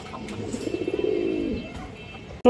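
A female pigeon with deep red eyes, kept on a pigeon farm, gives a soft, rolling coo that pulses for about a second and a half up close, ending in a brief louder thump.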